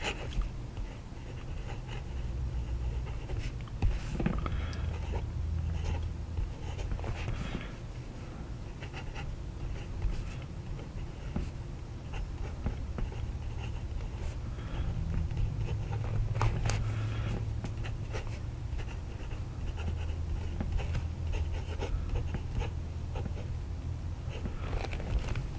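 Jinhao 82 fountain pen with a Fude nib scratching across paper in a steady run of strokes, close and fairly quiet, with no talking.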